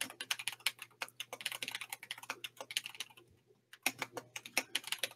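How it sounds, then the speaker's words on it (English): Rapid, steady typing on a computer keyboard, close and distinct clicks in uneven bursts with a brief pause near the end, alone without talk over a faint low hum. "And I'm typing this out."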